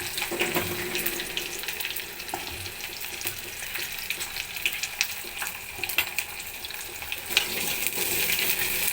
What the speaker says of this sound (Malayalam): സവാളയും പച്ചമുളകൊക്കെ ഇട്ടു. എപ്പോഴും ഞാൻ ചെറിയ ഫ്ലെയിമിലാണ് വെക്കണത്.